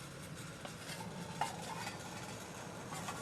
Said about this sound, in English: I think this actually started boiling.